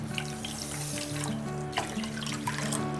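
Two cups of water pour steadily into a pan for sugar syrup in a home kitchen, a close continuous splashing stream with no talk.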